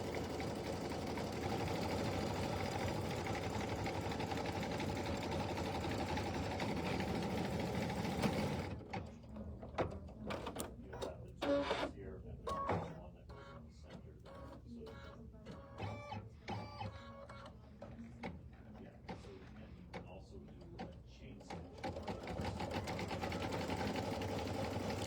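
A sewing machine stitches with navy blue thread on a Star-Spangled project, running in fast, uneven bursts with brief stops after a steadier mechanical hum at the start.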